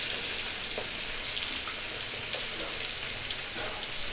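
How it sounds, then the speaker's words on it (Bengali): Bhetki fish frying in hot white oil, a steady dense hiss of sizzling with faint crackles and pops running throughout, close and continuous, no voices. "মাছটা একটু লাল লাল করে ভাজবো"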